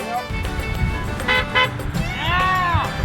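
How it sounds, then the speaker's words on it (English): Car horns honking from passing drivers on a street, short toots over steady traffic noise, with a louder sustained horn blast near the end while people talk nearby. "People are honking, they're pulling over,"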